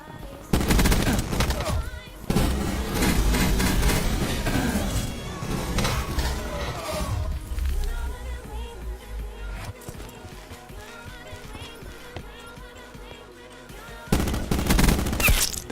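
Rapid bursts of automatic gunfire in a shooter video game, loud bangs at the start, a dense stretch of fire through the middle and another strong burst near the end, with gameplay noise between.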